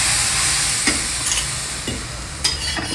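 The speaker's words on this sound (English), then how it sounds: "Should be sizzling hot like this" Loud, steady sizzling from a hot tawa as batter cooks, a continuous hiss with a few soft scrapes and taps.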